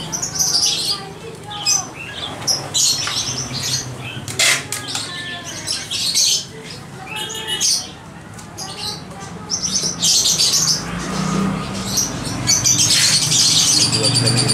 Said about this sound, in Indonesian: Yang diminta oleh kawan kita dari Aceh itu kacer betina, juga kacer rejak jantan.